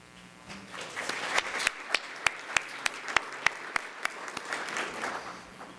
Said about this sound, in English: I will be sure and tell Devon that you applauded